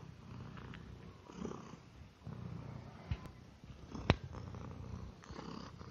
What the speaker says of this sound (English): He's purring very softly.